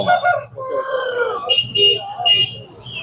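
Several chickens cluck and a rooster crows close by, mixed with people talking over a busy background at the Tuesday market in Maniyanur, Salem.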